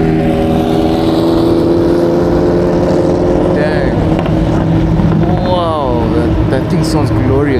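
A Ferrari F40 engine drones loudly and steadily nearby, with wind buffeting the microphone and a voice talking over it.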